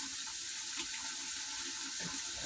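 Water runs steadily from a kitchen tap into a sink while stir-fried vegetables are being prepared, a continuous close hiss and splash with no talk.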